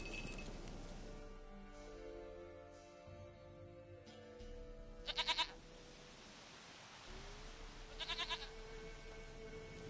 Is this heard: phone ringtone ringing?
no